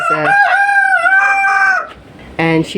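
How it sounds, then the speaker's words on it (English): A flock of backyard chickens in a coop, including a silver Brahma hen, with a loud nearby rooster crow stretching over most of the moment, followed by a short burst of clucking. "all the chickens are just hanging out here today."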